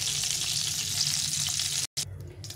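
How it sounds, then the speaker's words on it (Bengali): Taro and potato frying in hot mustard oil, a steady close sizzle that runs continuously, cuts out briefly near the end, then resumes, with no talk. "প্রথমে আমি কচুটা আর আলুটা একটু ভেজে নেব।"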